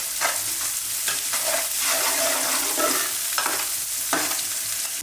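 Ginger garlic paste sizzles and fries in a pan while being stirred, a steady close crackle with occasional scraping strokes and no talking.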